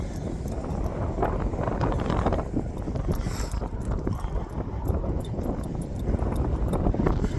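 Steady spring wind beside the St. Clair River buffets the microphone in gusty rumbles, with faint outdoor background noise and no voices.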